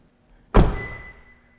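A Toyota bZ4X door locking by key fob makes a single solid thunk near by, with a brief clunking decay after it and otherwise quiet surroundings.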